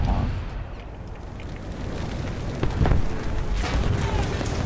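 Heavy naval gunfire in War Thunder from the battlecruiser SMS Von der Tann shelling a ship, deep rumbling booms and a sharp blast near the middle over a constant low roar, with a faint voice underneath.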